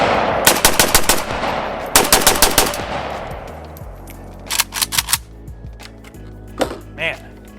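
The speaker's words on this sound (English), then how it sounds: "you gotta shoot a little, right?" An AK rifle fired outdoors in quick bursts of sharp, loud shots, several clusters in rapid succession followed by sparser bursts and single cracks, with a voice in between.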